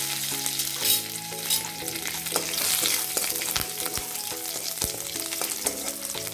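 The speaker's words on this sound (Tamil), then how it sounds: "கொஞ்சமாக கடுகும் உளுந்தும் தாளிப்பு கொடுங்க." Mustard seeds, urad dal, a dried red chili and curry leaves sizzle loudly in hot oil as a tempering for instant sambar, with crackling pops and stirring clinks close by, continuous throughout and with no talking.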